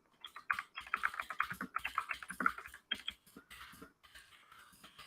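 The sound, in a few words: typing on a computer keyboard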